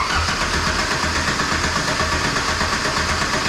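A fuel-injected 2.3 Ford Pinto engine runs steadily and loudly close by, a continuous rough mechanical drone with no talking over it.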